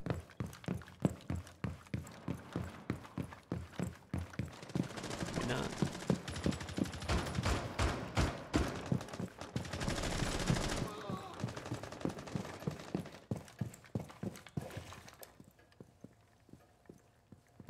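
Rapid gunfire in the video game Villa rattles in fast repeated bursts, dense in the middle stretch, then thinning to sparse single shots before fading out near the end.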